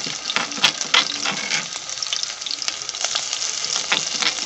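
Pounded onions, chilies, garlic and ginger fry and crackle in a pan, a loud close sizzle with busy popping and stirring scrapes throughout the short stretch; no one talks.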